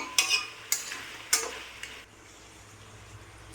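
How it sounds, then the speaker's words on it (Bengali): Chicken and potato pieces stirred in a pan for Bengali chicken kosha: a few sharp scraping strokes with light sizzling in the first two seconds, then only quiet background, close and fairly soft, no talk. "চিকেনটাকে নেড়ে নিলাম আর একবার"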